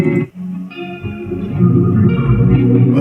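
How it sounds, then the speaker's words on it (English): Heavily processed music swells with washy reverb and smeared, reversed-sounding tones, building into a dense, loud sustained texture. "But this is more like reverb and reverse bass stuff."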